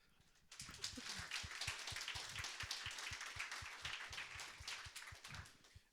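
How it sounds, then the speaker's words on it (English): Audience applause for a speaker after a technical game-studio talk: a dense, sustained burst of clapping with a steady rhythmic beat running through it, loud and close, lasting several seconds without talk. "big applause for Anton"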